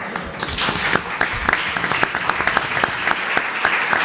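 Audience applause at a conference on La Carta Malacitana, a steady patter of many hands with distinct sharp individual claps standing out near the listener.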